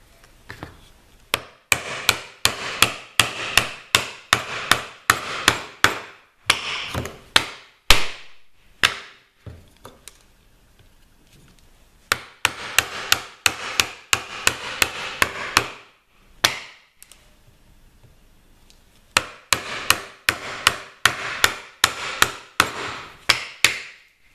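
Rapid mallet blows drive a chisel into wood while cutting the slot of a bridle joint. The sharp knocks come in three dense bursts, each a fast steady run of strikes, separated by brief pauses and a few isolated taps.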